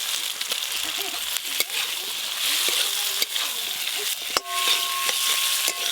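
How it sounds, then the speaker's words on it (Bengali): Fried potatoes go into spice paste in a pan, with a steady broadband sizzle and scraping stir strokes running throughout, plus a few sharp clatters and a brief tonal ring near the end; no talk. "এবার ভেজে রাখা আলুগুলো দিয়ে দেবো"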